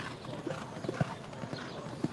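Horse hooves clip-clopping on the dirt racetrack at Churchill Downs on Kentucky Oaks Day, a few soft, uneven thuds a short distance off over faint outdoor ambience.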